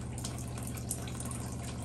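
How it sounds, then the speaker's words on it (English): A faucet runs steadily to flush the filters of a tankless reverse osmosis system, a constant rushing hiss of flowing water close by with no speech. "Open the faucet and allow the water to run for 30 minutes."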